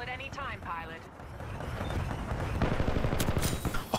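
Rapid bursts of video game gunfire build from the middle onward into a steady stream of shots, loud and close, following a brief stretch of talking at the start.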